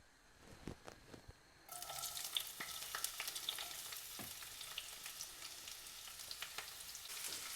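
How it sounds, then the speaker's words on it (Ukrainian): Onion and carrot fry in a hot pan, a loud, steady crackling sizzle that starts abruptly about a third of the way in and carries on to the end, with a few sharp pops and stirring clicks, no voices. "В першу чергу обжарую цибульку з морквою"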